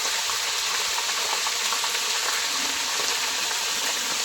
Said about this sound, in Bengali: স্বাদ মতো লবণ দিয়ে মশলাটা ভালো করে একটু কষিয়ে নেব।